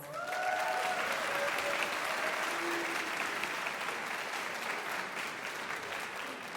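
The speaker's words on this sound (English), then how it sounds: "ask you to give them another round of applause" Graduation ceremony attendees applaud the partners, a broad, even wash of clapping from a large audience that holds steady, with a faint voice or cheer briefly rising over it early on.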